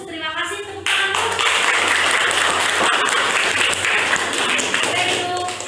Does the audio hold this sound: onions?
no